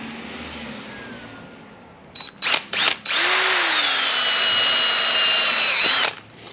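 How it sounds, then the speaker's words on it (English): A power drill bores through a plastic dash mount inside a 2023–2024 GMC Canyon or Chevrolet Colorado truck. After a few short trigger bursts, it gives a loud, sustained whine that dips in pitch before stopping. "So we're going to drill right here, right now."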